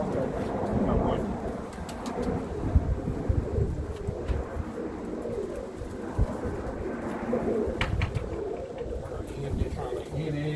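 Roller pigeons in a loft during egg-laying season give low, steady cooing throughout, close and continuous, with scattered rustles and knocks and someone speaking over them.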